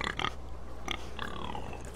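A pig in the Game of Thrones video game oinks and grunts in a few short bursts, followed by a longer squealing snort, synthetic and close, with no talking.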